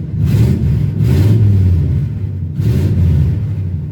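A 1954 Chevrolet Bel Air two-door hardtop engine revving with open pipes and no exhaust, three loud throaty blips rising and falling over a steady rumbling idle, close by.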